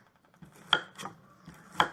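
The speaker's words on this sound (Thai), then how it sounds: "เมื่อเราหั่นแล้วนะคะ" A sharp knife chopping kaffir lime on a board, four crisp cuts at an uneven pace, close and fairly quiet with no talk.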